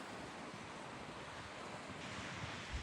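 Waves wash onto a Norfolk beach at high tide, a continuous broadband rush of surf mixed with wind noise, fairly quiet and steady with no voices.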